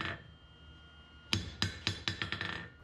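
A freshly forged hammer rings out in a quick series of about seven sharp, metallic strikes, each with a bright lingering tone, clear and close after a quiet stretch of low background noise.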